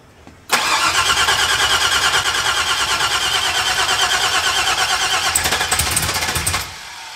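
A 1970 Oldsmobile Cutlass with a 6.0 V8, 80E transmission and stage 2 cam on a base tune cranks and fires after a short pause, then runs loud and steady at close range before easing off.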